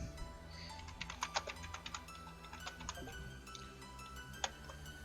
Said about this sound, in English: I'm also typing out that question in case it doesn't get addressed.